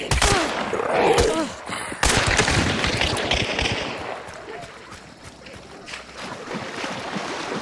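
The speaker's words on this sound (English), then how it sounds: "you shooting at us?" Gunfire in the video game Hunt: Showdown, a sharp loud shot followed by scattered cracks and distant reports over a dense, noisy game ambience.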